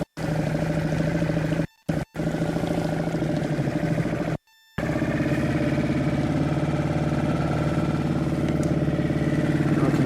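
A Suzuki 2.5 outboard motor idles steadily on a small boat near a jetty, a continuous low chugging drone with a couple of brief dropouts.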